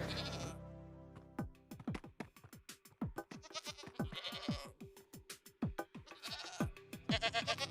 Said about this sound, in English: So we also have screaming goats that scream all the way around.